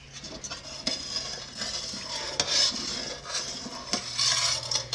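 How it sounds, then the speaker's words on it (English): A spoon stirs salt into whey in a metal pot while mozzarella is being made, giving faint, repeated scraping and clinking strokes over a soft background hum. "stir in 3 teaspoons of salt into the whey"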